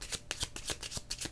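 Oracle cards being shuffled by hand, a run of quick riffling bursts in an irregular rhythm, close and clear with no talk over them.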